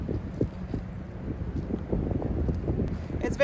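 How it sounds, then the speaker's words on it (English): Blustery outdoor wind gusting across the microphone, a low rumbling buffet that swells and dips continuously, with faint knocks and a brief sharper sound near the end. "It's very blustery and the wind caught under that one."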